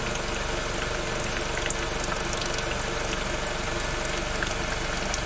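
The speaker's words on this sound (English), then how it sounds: "So we're supposed to wait for it to drip out." CVT transmission oil draining from a 2012 Nissan Versa, a steady wet trickle and splatter that runs continuously and evenly, fairly close, with no talking over it.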